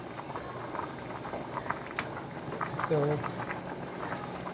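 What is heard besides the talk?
spaghetti sauce with wine simmering in a pan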